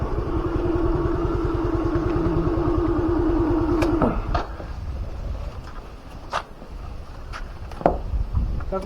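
A motorbike engine runs with a steady mid-pitched putter for about four seconds at the entrance of the Bhagabatpur crocodile project, then cuts out, leaving scattered clicks and clatter.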